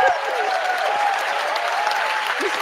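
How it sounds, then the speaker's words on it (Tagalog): An audience at a Philippine political commentary session applauds, producing a steady, moderately loud crowd clapping, with a voice faintly sounding over it. "Palakpak ulit sila dyan"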